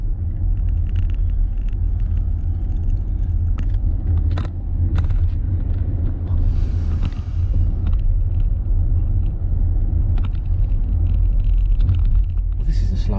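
Car creeping slowly through heavy traffic, a steady low engine and road rumble heard from inside the cabin with occasional small clicks, while people talk.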